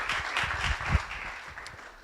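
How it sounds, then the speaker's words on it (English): Audience applause welcoming a speaker from London onto the stage at an evening design talk, a short, moderate burst of scattered clapping that thins out toward the end. "je vous demande de l'applaudir très très très très très chaleureusement"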